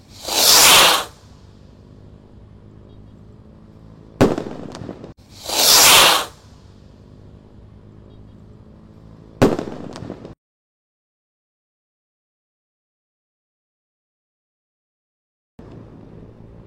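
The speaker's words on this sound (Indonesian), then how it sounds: "Roket siap meluncur." Firework rockets let off for a Ramadan 2025 celebration hiss up in sharp whooshing bursts, four loud launches and bangs spaced a few seconds apart, then a quiet gap before a fainter fifth.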